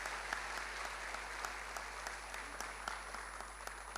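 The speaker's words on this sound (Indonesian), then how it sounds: "Coba saya mau dengar tepuk tangannya umat pemenang seperti apa." A church congregation claps together in sustained applause, a dense, even wash of many hands with occasional sharper claps poking through, steady and fairly loud for the whole stretch with no voices standing out.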